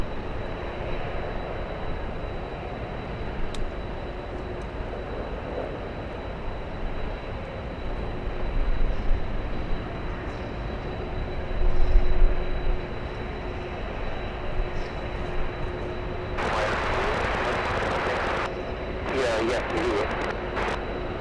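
A Lufthansa Airbus A380 approaches Los Angeles International Airport in a crosswind, a steady distant jet engine roar under heavy wind buffeting, with a louder hissing gust near the end.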